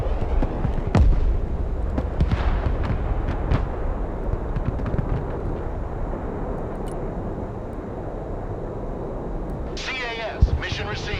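Heavy gunfire in the military strategy game Broken Arrow booms and thuds in a scattered series of blasts, loudest early on, set against a constant rumbling battlefield backdrop with voices talking.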